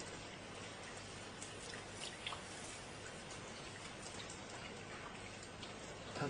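Steady rain falls in an even, hissing wash with scattered soft drops, continuous and moderately faint with no voices.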